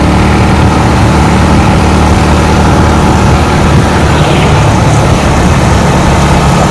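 Motorbike engine running steadily while riding on a road near Kala Dungar in Kutch, a loud continuous low rumble with wind noise throughout and no pauses.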